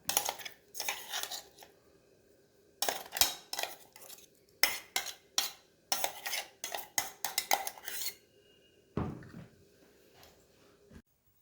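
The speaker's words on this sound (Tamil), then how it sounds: "இதை ஒரு தயிரோடு இப்போ கலக்கிறோம்." A spoon clinks and scrapes in a bowl as ground beetroot is stirred into curd, with close, irregular bursts of clattering separated by short quiet pauses.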